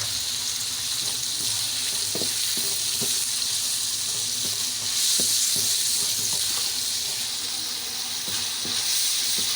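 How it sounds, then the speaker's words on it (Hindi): Onions with salt and spices sizzling in a hot pan while cooking bhindi fry, a continuous loud frying hiss with scattered soft clicks of stirring. "प्याज को हम लोग थोड़ा सा भून चुके हैं"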